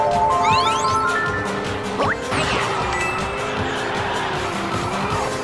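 Kart tires squeal through a drift on Mario Highway in Mario Kart Arcade GP 2, a loud, wavering screech over steady engine whine and arcade music, with brief sweeping effects around it.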